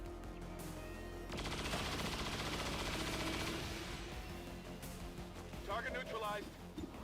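Sustained automatic gunfire from an XCOM 2 soldier's Hail of Bullets ability, a dense loud burst lasting several seconds, followed by quieter impact and effect sounds.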